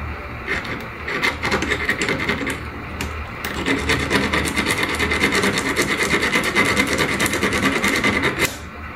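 Steady rasping scrapes of sandpaper rubbing against washing machine wiring, repeated back-and-forth strokes, close and fairly loud, continuing without pause.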